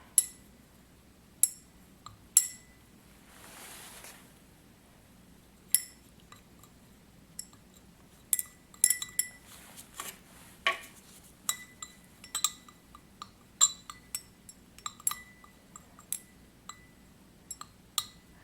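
Iron being pushed down and stirred in a copper solution inside a glass container, giving sharp intermittent clinks and taps against the glass, spaced irregularly and growing busier, with no voices.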